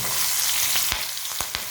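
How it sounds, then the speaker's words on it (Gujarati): Tiny mustard seeds crackle and pop in hot oil during tempering for khaman, a loud continuous sizzle punctuated by several sharp pops close by, with no voices. "એકદમ ઝીણી રાઈ લેવાની છે, રાઈ તતડવા લાગી છે।"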